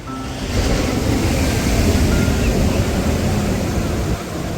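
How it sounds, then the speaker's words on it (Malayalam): Ocean surf rolls and crashes steadily in a broad, continuous wash on a Trivandrum beach in Kerala, with wind rumbling across the microphone throughout. "നല്ല തിരമാല ഉണ്ട് ഇവിടെ"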